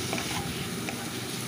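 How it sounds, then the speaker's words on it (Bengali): Bhola fish sautés in a pan with salt, turmeric and chilli powder, giving a dense, continuous close sizzle with soft stirring scrapes throughout this brief moment, without any talking. "এবার এটাকে ভালো করে একটু কষিয়ে নিচ্ছি"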